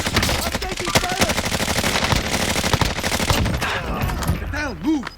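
Rapid automatic gunfire and repeated shots in a battle video game, dense and continuous throughout, with occasional louder bursts near the end. Players talk over it.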